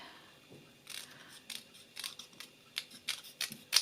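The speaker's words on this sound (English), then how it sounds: "make a neat cut so that it looks like a leaf, and then here you can cut this away" Scissors snip through paper flowers being trimmed for a card: a quiet series of short, crisp cuts in an irregular rhythm, growing slightly sharper toward the end.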